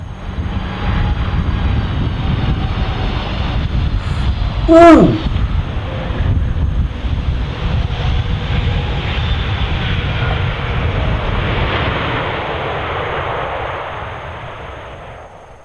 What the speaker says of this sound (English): This Airbus A321neo landed too hard in a crosswind, causing the plane to be grounded for repairs.